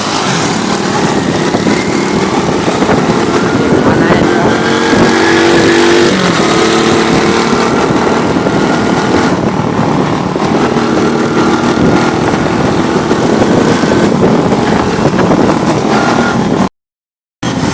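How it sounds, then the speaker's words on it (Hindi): A car engine drones steadily and loudly throughout as it is driven through a city, with road and cabin noise and a brief dropout near the end; a short spoken remark barely rises above it. "गाड़ी चला रहे हैं"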